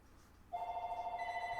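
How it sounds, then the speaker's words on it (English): A phone starts ringing suddenly with a steady warbling electronic tone that stays loud and constant, and a second higher tone joins partway through. "Gotta love the phone ringing like crazy."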